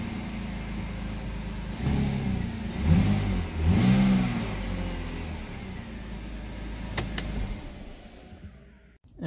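A BMW M54 engine in an E-series car turns over and catches after a camshaft position sensor replacement, then revs up in a couple of strong mid-pitched surges before settling back, heard close up without talk.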